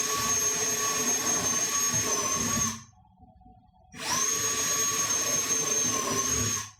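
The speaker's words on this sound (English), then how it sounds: "I'm just drilling starter holes right now for the jigsaw" A power drill boring starter holes for a jigsaw in kitchen cabinetry during a remodel, two loud, sustained high whines with a brief pause between them.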